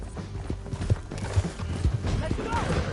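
A horse gallops down a canyon in a Red Dead video game, rhythmic thudding hoofbeats pounding close and loud, with voices talking over the ride.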